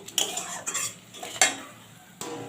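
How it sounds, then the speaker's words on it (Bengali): Boiled potatoes with spices are stir-fried in a pan. A metal utensil scrapes and clinks against the pan in several separate bursts over a faint, low sizzle, fairly quiet and without voices. "এবার সব দিয়ে আমি ভালো করে কষাতে থাকবো।"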